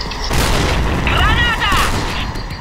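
A grenade blast in the video game Point Blank, a loud boom with a rumbling tail and a brief ringing, high-pitched whine, over constant game noise and voices talking.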